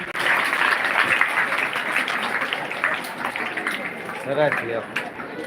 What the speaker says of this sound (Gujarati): જોરદાર તાળીઓના ગડગડાટથી આપણે વધાવી લઈએ